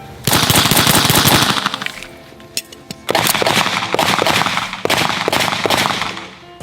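A gun fires rapidly in loud, close bursts of automatic fire, with a short pause partway through before a second long string of shots.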